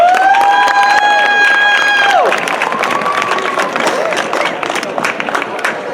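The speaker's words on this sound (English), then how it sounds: "So a gigantic round of applause for Tobias Young." Outdoor crowd at a community celebration in Seaside, California applauding and cheering as a speaker comes on stage, a loud, sustained wash of clapping with a sustained tone at the start that bends down and fades.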